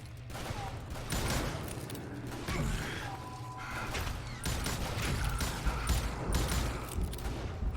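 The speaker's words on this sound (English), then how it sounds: "Okay, so I'm shooting at ghosts." Gunfire in the Western shooter game Call of Juarez Gunslinger, a dense mechanical clatter of repeated shots and creaking effects layered over a continuous game soundtrack, loud and steady throughout.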